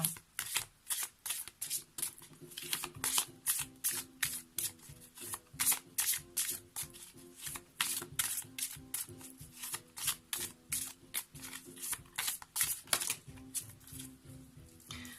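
Tarot cards shuffled by hand in a steady run of crisp, riffling bursts, close and fairly quiet, with no talking.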